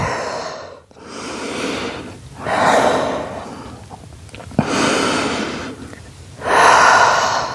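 Deep, slow breaths during a Pilates child's pose, with several long audible inhales and exhales close up and no talking.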